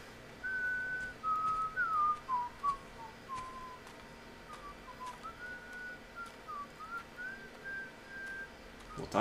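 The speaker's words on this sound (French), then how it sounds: "t'arrêtes de siffler" Someone whistles a slow, wavering tune in the video game Fable Anniversary, fairly faint over a low background hum, with a few soft clicks scattered throughout.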